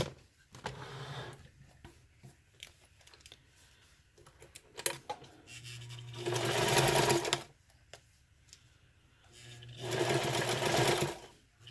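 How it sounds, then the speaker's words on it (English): Singer Fashion Mate 237 sewing machine stitching a zipper pouch, running in two long whirring bursts between quieter stretches of handling and clicks, close and clear. "If you're wondering what kind of machine I'm using a Singer Fashion Mate 237."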